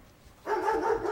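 A bulldog gives a single sustained bark or yelp lasting under a second, close and fairly loud, following a brief quiet moment.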